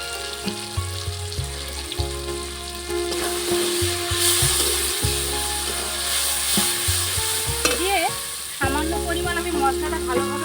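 Masala with Kashmiri chili powder and a splash of water fries in a pan with a continuous close sizzle and frequent stirring scrapes, while tonal background sounds run underneath.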